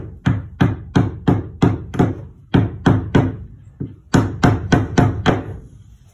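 Sharp hammer blows strike in quick, steady runs, about a dozen in all, with a brief pause partway through, while working on a van; loud and close, no talking.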